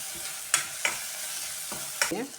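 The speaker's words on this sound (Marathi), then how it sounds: "मस्त परतायचं वाटण" Spice paste with tomato sautéing in a pan for a dal and potato dish: a steady frying hiss with a few sharp spatula scrapes and clicks, close and alone with no voices.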